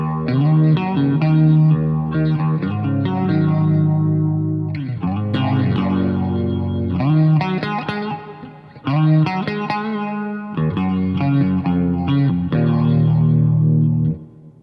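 Clean electric guitar chords strummed through a BOSS Katana MK2 amp with a shimmering chorus effect, ringing in several phrases with brief pauses between them.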